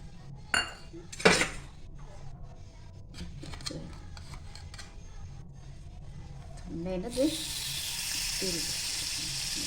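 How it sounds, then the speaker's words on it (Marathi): Oil goes into a pan heating on the stove with butter nearby, after a couple of clinks of utensils against metal, then a close steady sizzling hiss starts as the oil warms. A voice talks briefly at the start. "त्यात आपण आता तेल टाकूया"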